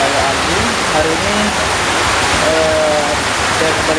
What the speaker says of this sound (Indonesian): saya kembali menceritakan teman-teman lagi cuaca hujan